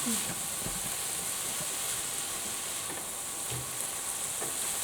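Stir-fried rice with vegetables being stirred in a hot pan, a steady sizzle and hiss with soft scraping of the utensil, fairly quiet and close, lasting throughout.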